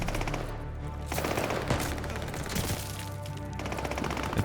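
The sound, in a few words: gunfire from the video game Call of Duty: Vanguard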